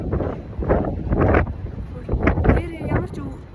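Wind gusts rumble across the microphone outdoors at Ghibli Park, a low, steady buffeting under a person talking throughout.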